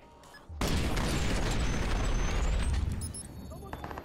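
Gunfire from the video game Watch Dogs, including sniper rifle shots, opens with a sudden loud blast that rumbles on for a few seconds before thinning out into smaller sounds.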